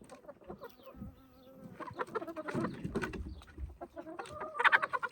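Busy farmyard chatter with chickens clucking and squawking throughout, a buzzing bee drone from an open hive underneath, louder bursts toward the end.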